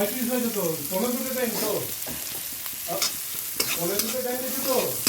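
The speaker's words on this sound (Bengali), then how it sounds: "আলু উচ্ছে ভাজা এখানে দিয়ে দিলাম" Potato and bitter gourd slices fry in oil in a pan, a close crackling sizzle with stirring scrapes, while a voice murmurs intermittently over it.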